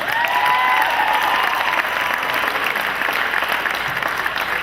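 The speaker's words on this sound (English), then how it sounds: "One more round of applause for Ashraf El-Gamal." An audience at the Miss Arab USA pageant applauds steadily, a dense wash of clapping that stays loud and then slowly eases, with a few brief tones early on.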